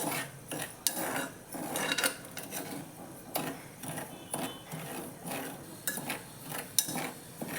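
Salt being roasted in a pressure cooker and stirred with a metal spoon, giving a continuous gritty scraping and rasping with sharper clinks of metal on metal, close and busy.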